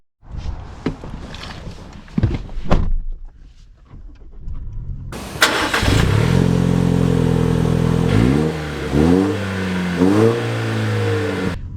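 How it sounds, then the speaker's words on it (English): A 2024 Toyota Tacoma pickup truck starting off and accelerating, the engine rising in several revving surges through the gears, close and loud from inside the cab after some initial clunks and rustling. "let's go drive that Tacoma and see how it compares to the Frontier."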